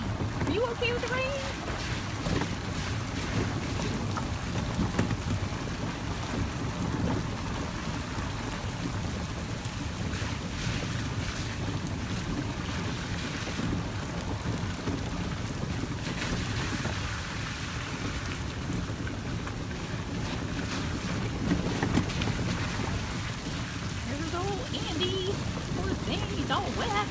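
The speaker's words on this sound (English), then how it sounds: "Are you okay with the rain?" Steady rain falls outdoors with wind in a big cat enclosure, a constant close hiss that fills the whole stretch without letup.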